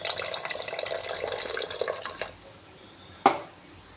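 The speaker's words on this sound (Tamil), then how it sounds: "புளி தண்ணி ஒரு 2 ஸ்பூன் சேர்த்துக்குவோம்." Tamarind water, about two spoonfuls, trickles and splashes into mutton head curry in a pot, a close liquid pour that stops partway, followed by a single sharp clink.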